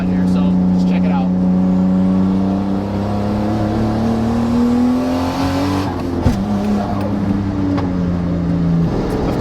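A manual car's engine revs up with a rising tone, drops sharply as the gear changes, then pulls again in the next gear, heard loud and close from inside the car.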